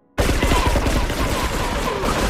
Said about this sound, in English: The triads and them fist trucks just zooming around, gunning, gunfire being exchanged in every direction.